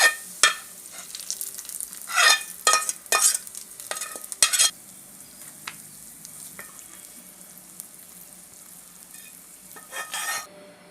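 Onions sautéing in a pan for papaya kootu, browning in oil: a steady soft sizzle broken by loud scraping stirs of a spoon against the pan, close up, which fade into quieter frying toward the end.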